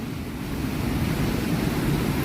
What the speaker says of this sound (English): An absolute torrent.